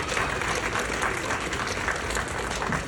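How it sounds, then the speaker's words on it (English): Steady audience applause at a health and wellness institute event welcoming the keynote speaker, a dense, continuous wash of many hands clapping throughout, fairly close and even in loudness with no talk over it. "welcome with a big round of applause, Miss Angie Ravenel"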